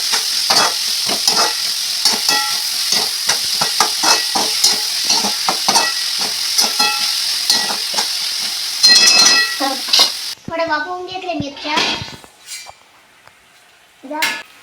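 Food is stirred and fried in a pan: a continuous close sizzle with rapid, repeated scraping stir strokes. The frying then drops away, leaving a few scattered utensil clinks and knocks.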